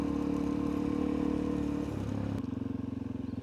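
Adventure motorcycle engine idling close by with a steady throb, then the tone drops and shifts as the bike pulls away, its rhythm changing into uneven pulsing.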